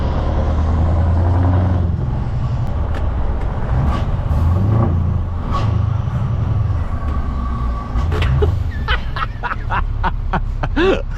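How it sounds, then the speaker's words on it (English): A Volvo truck pulls away with a loud, heavy engine rumble that builds, with a few sharp hissing bursts near the end. "I love this truck so much. You listen to her pull away from here."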